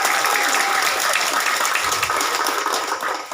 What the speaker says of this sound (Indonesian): Kita berikan aplaus kepada Bapak Pendeta Pai